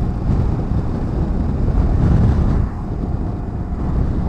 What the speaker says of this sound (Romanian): ce vântul ăsta, ce tare poate să bată.